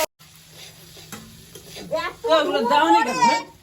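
Vegetables sautéing in a pan with coriander, cumin and pepper powder, a soft sizzle with stirring that swells louder in the second half, while a voice talks over it.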